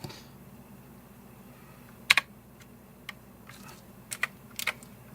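Key presses on an E-Blue K753 budget mechanical keyboard with lighting, a few sharp, sparse clicks spread irregularly over several seconds, close and fairly quiet, with no talk.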